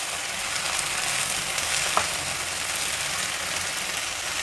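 Flat beans frying in an oil tempering in a pan, a continuous dense close sizzle with a single faint clink partway through.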